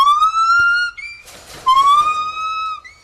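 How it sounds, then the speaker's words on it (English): A pair of blonde-colored gibbon apes sing in loud, siren-like rising whoops with bright harmonics, two long sustained calls split by a short burst of noisy, overlapping cries. "That's a pair of blonde-colored gibbon apes just singing away."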